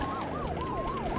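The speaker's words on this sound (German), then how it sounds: "Martinshorn auf volle Lautstärke." An ambulance siren in the Nintendo game The Stretchers wails loudly and alone, rising and falling in quick repeated sweeps.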